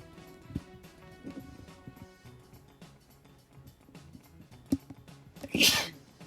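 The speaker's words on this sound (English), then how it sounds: "It's never just 1 sneeze." A man sneezes during a commentated online military combat game, one sharp burst near the end following a smaller catch earlier, over a busy game soundtrack with gunfire-like thumps.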